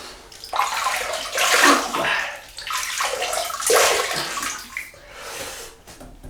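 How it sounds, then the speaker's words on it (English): Water splashing in repeated bursts as a face is rinsed during a double-edge razor wet shave, close and fairly loud with running water in between, no talking. "let's just rinse the face."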